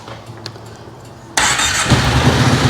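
A carbureted 2005 Kawasaki Brute Force 750 ATV engine cranks and fires up on choke, catching abruptly after a quiet moment and settling into a loud, steady high idle close by.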